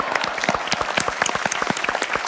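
Audience applause at a live stage show, dense close clapping that carries on steadily and fairly loud throughout, with no voices over it.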